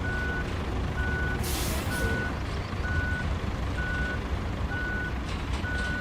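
A truck's reversing alarm beeps steadily at an even rhythm in the RoadCraft video game, over a constant engine rumble with a brief hiss of air brakes near the start.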